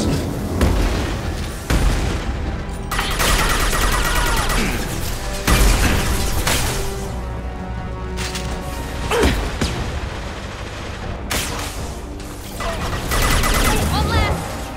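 Loud, dense combat from Mass Effect 2: bursts of gunfire and heavy booms roll almost without a break, with sharp blasts standing out every few seconds over a constant wall of battle noise.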